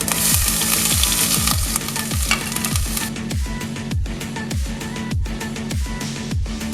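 Crushed coconut fries with mustard seeds in coconut oil, giving a close, busy sizzle, with repeated low thuds of stirring or tapping in a regular rhythm under the spattering.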